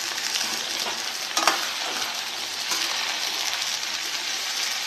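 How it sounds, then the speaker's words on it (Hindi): Chickpeas fry in a pan with grated ginger and already-fried onion for chana chole ghugni, giving a steady broadband sizzle throughout with a brief stirring scrape near the middle, fairly close and with no talk. "अब हम चने को अच्छा से फ्राई करेंगे"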